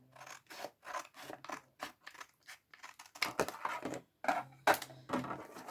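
Scissors snip repeatedly through a piece of card, a quick series of close, crisp cuts with short pauses between strokes, growing a little louder toward the end.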